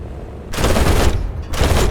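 Yak-9 37mm nose cannon firing in War Thunder, two loud heavy bursts of gunfire, the first longer and the second starting after a brief gap, close and harsh.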